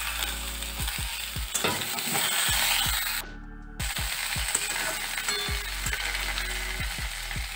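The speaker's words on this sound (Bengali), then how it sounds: "আলু হালকা করে ভেজে নিয়েছি, এর মধ্যে কুমড়ো আর পটলটাও দিয়ে দিচ্ছি।" Potato, pumpkin, pointed gourd, eggplant and ridge gourd frying in a pan, a steady sizzle under repeated rhythmic scrapes and knocks of a spatula, with a brief pause partway through.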